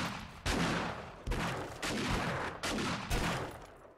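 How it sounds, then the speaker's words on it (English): Gunfire in the zombie survival video game 7 Days to Die comes as about five sharp, loud shots at irregular intervals, each followed by a short echoing decay, close to the listener and with no talking. "Easy on the shooting, guys"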